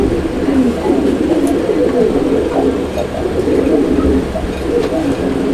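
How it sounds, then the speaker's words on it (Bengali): A male pigeon coos repeatedly at close range at a pigeon sale, its low, rolling calls running over a busy background. "এটা এই নরের ডাক ভাই"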